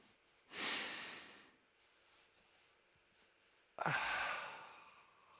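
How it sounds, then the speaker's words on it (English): Two deep breaths, a long exhale followed after a pause by a sharp inhale or sigh, close and intimate in a quiet room. "It's a great thing to do, breathing."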